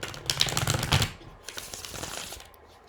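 Tarot cards being shuffled, giving a close, crisp riffling flutter in a quick burst that fades into softer rustling, with no voices.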